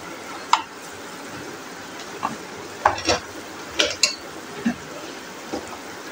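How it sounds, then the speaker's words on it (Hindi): Spice masala fries in a pan, a steady soft sizzle with a few scattered clinks and stirring scrapes close by, and no one talking. "इन सब को डाल के मसाले की अच्छे तरीके से भुनाई कर लेती हूँ और इसको फ्राई करती हूँ"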